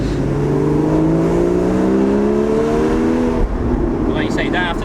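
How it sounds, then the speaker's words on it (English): A Porsche 981 Cayman S engine revs up with a rising, throaty tone, then holds steady over road and cabin noise, with a voice briefly speaking near the end. "You can just sort of rev it and enjoy it."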